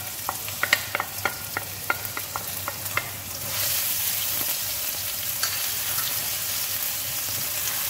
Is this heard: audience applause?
no